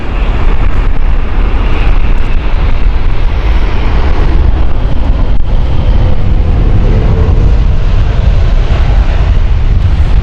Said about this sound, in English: as we watch the Airbus A350 of British Airways to come in